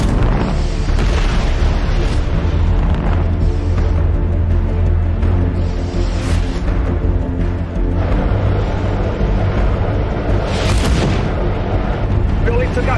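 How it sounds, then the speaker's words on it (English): Torpedoes launching and detonating during a space battle in The Expanse, a dense, continuous wall of loud booming blasts and rumbling explosions with sharp bursts layered over heavy low-end rumble throughout. "Firing torpedoes. I'll take out as many as I can with the blast."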